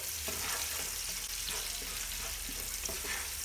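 Onions sizzle steadily in a hot pan with a pinch of salt, a continuous close crackling hiss broken by occasional stirring scrapes, no voices present, while cooking a country chicken biryani.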